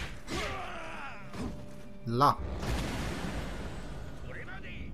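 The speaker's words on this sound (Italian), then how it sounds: "Una bella esplosione." An explosion in the video game Nioh bursts out once mid-clip as a short thudding blast, amid other game effects and whooshes, with someone speaking Italian around it.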